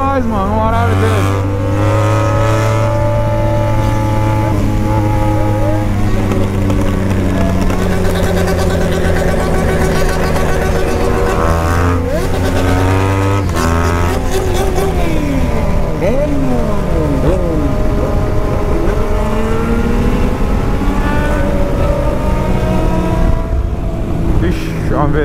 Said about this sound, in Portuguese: Caralho, hoje tem carro demais